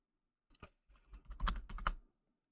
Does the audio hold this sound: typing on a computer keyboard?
yes